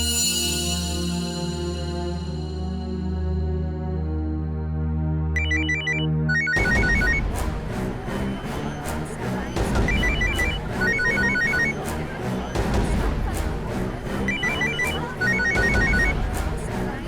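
A mobile phone ringtone plays continuously in a courtroom drama scene, starting as a sustained tonal melody and then shifting into a loud, rhythmic electronic tune that carries on without talk.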